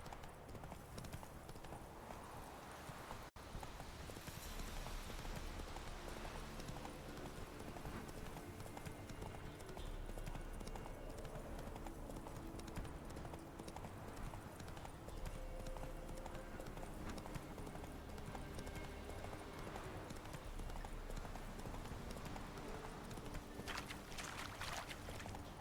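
Geralt's horse Roach from The Witcher video game gallops along in a rapid, steady clip-clop of hooves, fairly close and continuous, with faint game ambience behind it.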